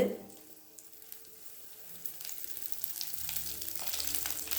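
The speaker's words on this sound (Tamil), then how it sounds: "எல்லாம் மொத்தமாகவே போட்டு வறுத்துக்கலாம்." Coriander seeds and mustard seeds roasting together in a pan with dal, a quiet sizzle that grows gradually louder and crackles faintly, close and alone without talk.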